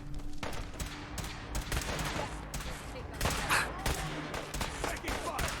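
Rapid bursts of gunfire in the video game Fallout 4, loud and sustained, with overlapping shots and a brief pause before firing resumes.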